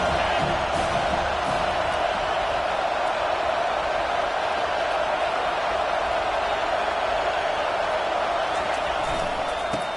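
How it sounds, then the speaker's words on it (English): A football stadium crowd roars continuously as the defense tries to make a red zone stop, a dense, steady wall of cheering and noise holding at a constant level throughout. "here comes the noise. This crowd is trying to inspire this defense to make a big red zone stop"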